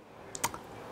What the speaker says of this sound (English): it's useful to press O on your keyboard